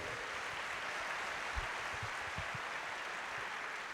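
A church congregation applauding during a family worship service, with dense continuous clapping that sounds somewhat distant and roomy and holds at a steady level from start to finish.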